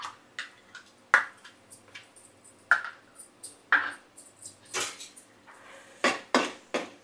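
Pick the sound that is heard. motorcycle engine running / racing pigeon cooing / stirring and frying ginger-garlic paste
stirring and frying ginger-garlic paste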